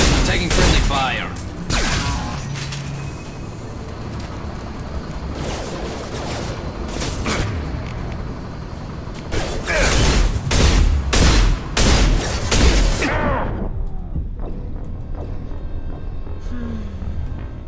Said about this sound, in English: Taking friendly fire.